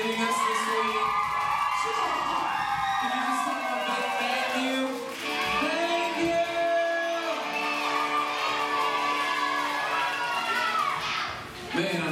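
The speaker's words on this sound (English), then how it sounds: "I need you guys to give the biggest round of applause for Merv and Chaz for leaving us this week." A crowd of children cheers and whoops loudly, with shouting and excited voices rising and falling throughout.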